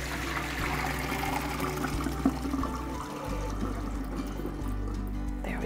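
Hot bean cooking water poured from a pot into a colander in a kitchen sink, a steady loud rushing splash lasting several seconds with no talk over it.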